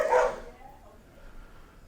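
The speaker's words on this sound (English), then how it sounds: "But that's the dog." A dog gives one short, fairly close bark right at the start. A faint, quiet background follows.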